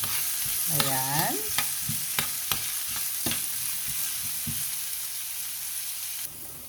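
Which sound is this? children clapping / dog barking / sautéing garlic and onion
sautéing garlic and onion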